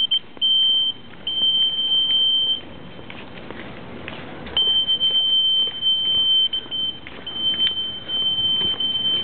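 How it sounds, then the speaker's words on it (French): Repeated electronic beeps from a timing mat as walkers cross it at a 12-hour walking race in Putrajaya, a steady high tone in stretches and stops, over constant outdoor crowd noise. "Le demi-tour, tout le monde passe sur le tapis, ça bip."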